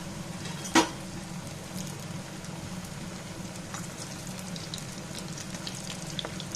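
Potato and flour snacks fry steadily in oil over a medium flame, giving a continuous close sizzle with one brief clink of a utensil near the start.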